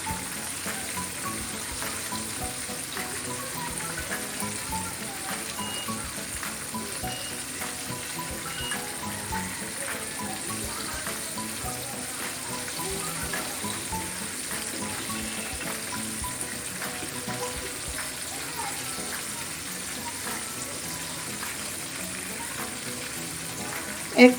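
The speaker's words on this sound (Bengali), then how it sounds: "এক পাশে আমার ভাজা হয়ে গেছে।" Prawns fry in a pan over a very low flame, giving a steady, close crackling sizzle that continues evenly without pause and with no talking.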